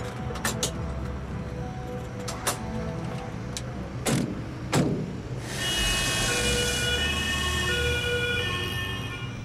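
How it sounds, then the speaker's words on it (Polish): Ambulance siren rising over road traffic as a patient is rushed to hospital, a broad wailing wash swelling in the second half after scattered passing-vehicle noise. "Transport karetką potrwa kilka minut."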